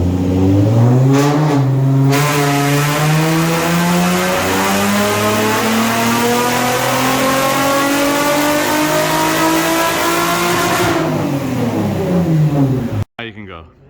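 A single-turbo Nissan 370Z running at 7 psi on a dyno revs loudly up through a long climbing sweep, holds, then eases back down before cutting off abruptly.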